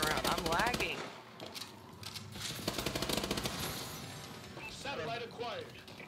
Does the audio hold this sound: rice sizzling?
no